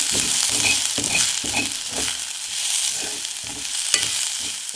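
Turmeric powder and salt being stirred into a hot pan, steady scraping sweeps at an even rhythm over a constant soft sizzle, close and fairly loud.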